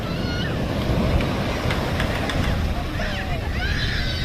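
Surf roars continuously at Elliot's Beach, broad crashing wash of big waves on a windy shore, with faint voices and distant chatter underneath.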